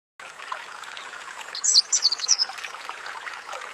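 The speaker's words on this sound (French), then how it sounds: "un bruit de rivière avec des oiseaux qui chantent" An AI-generated river scene: a steady broadband trickle of flowing water runs throughout, with a brief burst of bright bird chirps and song notes midway, no voices.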